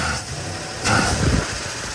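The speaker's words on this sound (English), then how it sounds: "it doesn't like it when you give it full throttle like that" An old Mopar car engine runs rough and loud, swelling briefly as the throttle is opened wide partway through, a close, steady mechanical rumble with no talking over it.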